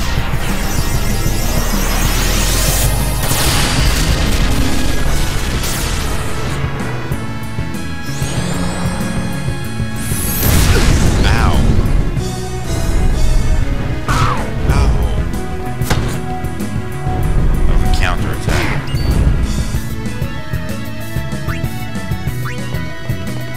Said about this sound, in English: Ultima, very powerful attack.